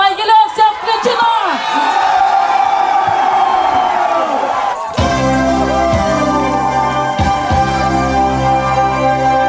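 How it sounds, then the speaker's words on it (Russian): A studio audience on a Belarusian morning TV show gives loud, sustained applause and cheers as the winning team from Mogilev is welcomed, with whoops and shouts throughout and a steady music bed joining partway through. "встречаем под ваши режущие, жгучие, зажигательные аплодисменты команду победителя вне эфира «Могилев»"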